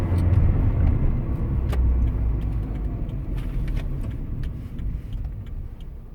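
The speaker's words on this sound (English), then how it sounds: "I'm just going to go full throttle, third gear" A car engine held at full throttle in third gear roars steadily and loudly with deep low rumble, then eases off as the throttle is released near the end; no one speaks.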